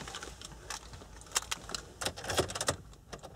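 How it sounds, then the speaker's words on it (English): Car keys jangle close by in uneven bursts of metallic clinks as someone searches for them inside a 2006 Nissan X-Trail during a stereo install, fairly quiet with no talking. "Let me just find my keys."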